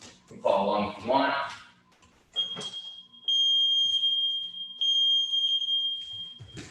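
A workout interval timer, set for basic exercises, sounds long, steady high beeps, one sustained tone followed by a longer one, loud and clear after a short burst of talk at the start.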